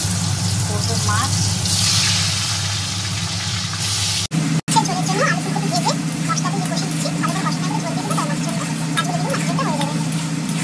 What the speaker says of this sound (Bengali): আর চিমনিটা চলছে বলে একটু আওয়াজ হচ্ছে।